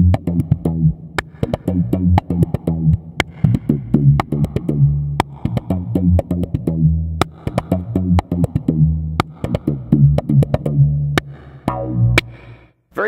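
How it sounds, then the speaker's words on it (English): SlapStick stringed instrument played horizontally with a two-finger hammer-on technique through an envelope filter: a steady, busy run of funky, buzzy bass notes with sharp percussive attacks, continuing for several seconds without talk. "And you can also do the hammer-on technique."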